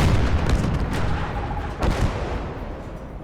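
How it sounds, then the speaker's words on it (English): A tank blows up in a video game set around Finland, a heavy booming blast with a rumbling low tail, then a second sharp crack as the roar fades, loud and near with no talk. "Tank's exploding"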